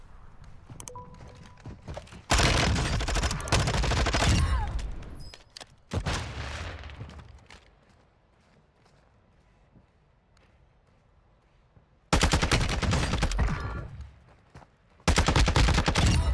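Rifle fire from the ISO Hemlock in Warzone 2, loud sustained bursts of gunshots in the game, with a long quiet stretch in the middle before two more heavy bursts near the end.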